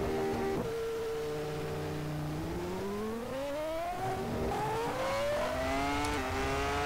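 Ferrari Formula 1 car in the rFactor racing game pulling out of the pit lane at the 1999 San Marino Grand Prix, its engine whining loudly and climbing in pitch through repeated upshifts as it accelerates away.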